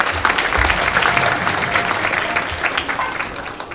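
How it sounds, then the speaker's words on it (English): An audience at a saxophone and flute arangetram breaks into loud, dense applause that holds steadily throughout, with a few faint voices mixed in. "Can I get another round of applause?"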